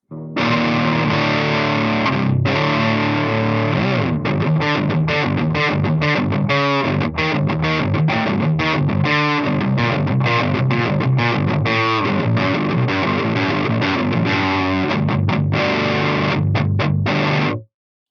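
Heavily distorted electric guitar plays a chugging, rhythmic riff through a Harley Benton Mighty 15 amp, loud and continuous with sharp choppy stops.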